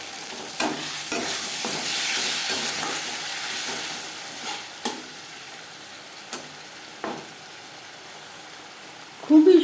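Spice paste being stirred with onion and tomato as it fries in a pan for a Bata fish curry, giving a steady soft sizzle broken by the scrape and tap of the spoon against the pan.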